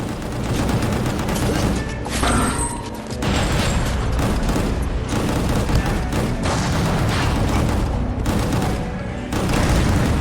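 Rocket explosions and gunfire in the video game Gungrave GORE, a dense, loud, continuous barrage of booms, blasts and mechanical clatter with no pauses.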